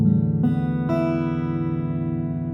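Guitar strings in standard tuning strummed as an open chord, with two quick strums ringing out and sustaining, fairly loud and alone.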